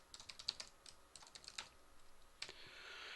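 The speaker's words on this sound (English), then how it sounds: "this is a pain to type." Typing on a computer keyboard, a quick irregular run of light clicks and taps close by, with a brief flurry of faster keystrokes near the end and no voices.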